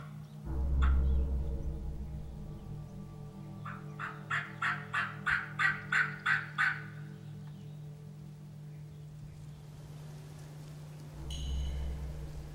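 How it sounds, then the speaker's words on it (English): Wild turkey gobblers strutting for hens in an open field let out a rapid series of rattling gobbles, moderately distant, with a quiet background before and after. "We got multiple gobblers out here strutting for a couple hens."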